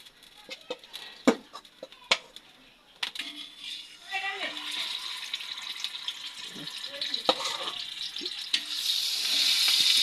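Fish frying in hot oil in a home kitchen, a steady bright sizzle that swells louder toward the end, with clinks and brief handling noises and quiet speech at times.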